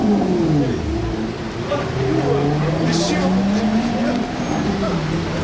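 Supercars including a Bugatti Chiron drive through the streets of Monaco, with engines revving and rising and falling in pitch at moderate loudness, and someone talks over them.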